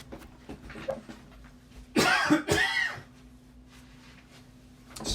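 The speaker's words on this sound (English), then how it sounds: "Sorry, I've got a little cough." A few sharp coughs close to the mic, a short cluster of two or three bursts in an otherwise quiet room with a faint steady hum.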